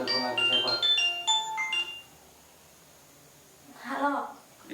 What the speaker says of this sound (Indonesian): Tuh telepon lagi siapa?